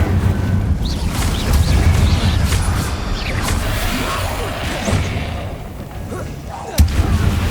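Hogwarts Legacy on PS5 carries a steady, dense roar of spell effects as the Incendio fire spell is cast, with crackling bursts, whooshes and thuds layered throughout and a sharp impact near the end, while a voice calls out under it.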